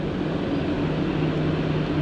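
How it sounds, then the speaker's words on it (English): Cooling fan of a BMW X3 SUV still whirring after the engine has been switched off, a steady broadband rush with a low hum that holds level and close throughout, with no voices over it. "The fan is still running."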